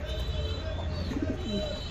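Fancy Lahori pigeons cooing indoors, a soft, low, throaty coo rising briefly over a constant background hum, heard close and fairly quiet.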